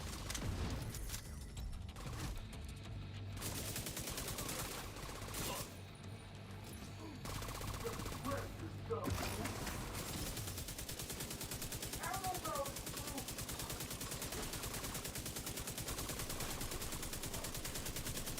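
Video game gunfire with an endless-clip weapon mowing down an enemy: sustained automatic bursts under a busy mix of game effects and talk, steady and fairly loud throughout.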